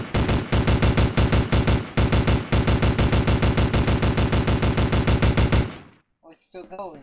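Rapid automatic gunfire from a Family Guy-themed death run map in a video game, loud continuous bursts with brief gaps, ending abruptly as a voice speaks.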